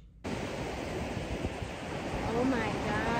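Ocean waves at the beach produce a broad, steady roar of surf that starts abruptly and continues loud and unbroken, with a faint voice briefly underneath.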